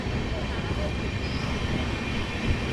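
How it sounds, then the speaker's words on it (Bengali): The Digha Tamralipta Express pulling out of Uluberia station, a steady broadband rumble of rolling wheels and carriage noise throughout, with a voice faintly audible. "ট্রেন আমাদের ছেড়ে বেরোচ্ছে উলুবেড়িয়া।"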